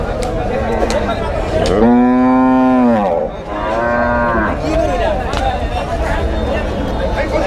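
Cattle at a busy livestock market at the old Karotia haat in Tangail give two long, loud, close moos, one after the other. Crowd voices murmur underneath throughout.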